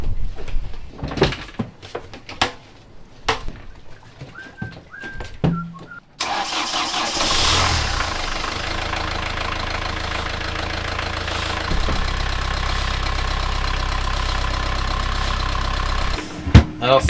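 Boat engine cranking with scattered handling knocks, then catching at about six seconds into a loud, steady, rumbling idle that runs near and continuous to the end, with a brief clunk near the close.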